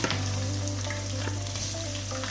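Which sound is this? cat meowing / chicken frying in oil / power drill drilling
chicken frying in oil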